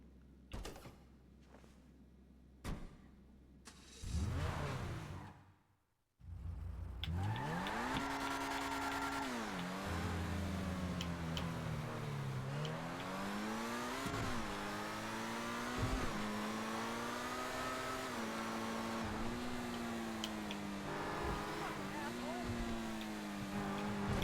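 An RE7B car in a video game starts up and drives off. A few sharp knocks and a brief burst come first, then the engine revs steadily, rising and falling through gear changes, loud and sustained for about twenty seconds.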